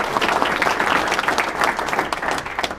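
Steady applause from the audience at a Leon County property appraiser and clerk of court candidate debate, a dense continuous patter of many hands held at an even level for about three seconds with no talk over it.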